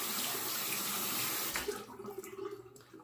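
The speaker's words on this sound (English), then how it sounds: "Let me rinse my hand off here." A hand is rinsed under a running tap, with water splashing steadily into the sink before easing to quieter dribbles and drips, close and moderately faint.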